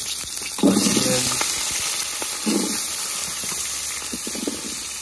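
Vegetables and onions hit hot oil in a pan, giving a continuous loud sizzle and hiss with short bursts of stirring, and brief talk underneath.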